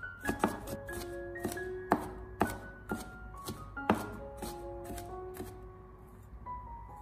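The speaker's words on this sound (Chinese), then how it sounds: "我们将大蒜全部拍过以后，再将它改刀切成蒜末。" A knife chops smashed garlic cloves into minced garlic on a cutting board. About a dozen crisp, close chops fall in a steady rhythm that slows toward the end, with no talking.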